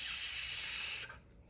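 A steady, bright hissing exhale held for about a second, a voice imitating a sizzle, then it cuts off into near silence.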